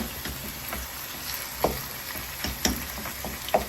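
Minced meat frying in a pan, a soft steady sizzle with occasional louder stirring clinks and scrapes, close and fairly quiet, no talking.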